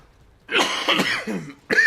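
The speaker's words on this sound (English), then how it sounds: "please excuse me. I got a bad cough" A couple of harsh, close coughs in quick succession, followed by another starting just after a brief pause.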